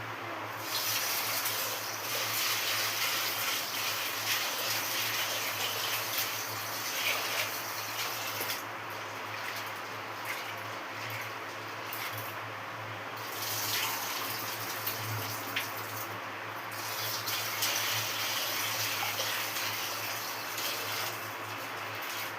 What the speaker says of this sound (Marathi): ते आपण स्वच्छ पाण्याने धुवून घेऊया.